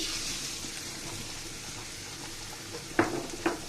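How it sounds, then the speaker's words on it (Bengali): Beaten egg fries with browned onions in a pan, a steady moderate hiss with a couple of sharp utensil taps near the end. "ডিমটাকে আমি এভাবে ভেজে নেব"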